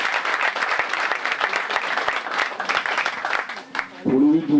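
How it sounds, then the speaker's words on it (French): A seated audience at a futsal club's annual general assembly claps warmly and continuously, a lively crowd ovation that fades as a voice resumes over an amplifier near the end. "on peut les applaudir"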